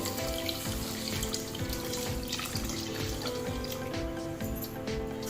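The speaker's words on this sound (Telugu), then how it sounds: "వాటర్ పోసుకోండి." Water runs into a pan with sugar to make syrup for badusha sweets, a steady close splashing and trickling stream that lasts throughout.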